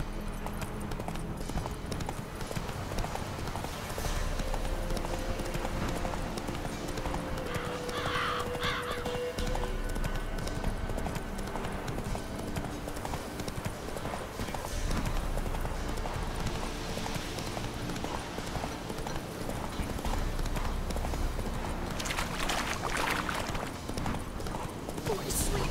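Horse galloping in The Witcher 3 video game, a continuous rhythmic drumming of hooves under game music and ambience, with a brief bird caw and a voice speaking briefly.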